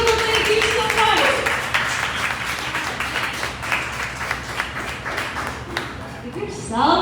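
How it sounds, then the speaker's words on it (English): An audience at a live song performance breaks into sustained clapping that fades somewhat as a voice speaks over it, then swells briefly again at the end. "Give yourselves a round of applause."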